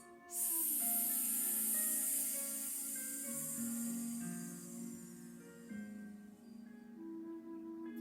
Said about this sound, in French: quand on fait l'expiration avec le S